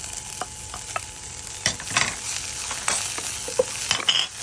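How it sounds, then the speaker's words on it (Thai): Garlic and chili are stir-fried in a pan: a soft continuous sizzle with scattered scraping and clinking as the spatula moves, close and fairly quiet, without speech. "ผัดให้กระเทียมหอมๆก่อน หอมแล้ว ใส่พริกลงไปครับ"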